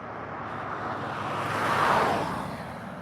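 A car passes by on a road during a morning walk, its broad tire and engine rush swelling to a peak midway and then easing off, heard alone at moderate distance over outdoor wind.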